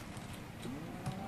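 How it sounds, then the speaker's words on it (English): Cow in the video game Minecraft giving a short, faint low moo within soft background sound. "I see a cow over there, but I don't think it's the same cow."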